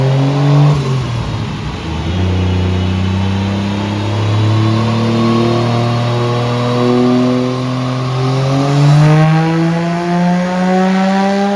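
A Toyota 1JZ-GTE VVTi engine on a dyno dips briefly, then rises in a long, loud, continuous rev with a smoothly climbing pitch, holding strong near the end, with no talking over it.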